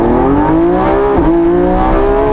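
Lamborghini Revuelto hybrid V12 and electric motors accelerating hard, a loud continuous engine howl that climbs steadily in pitch, dips briefly at a gear change midway, then keeps rising, with no talking.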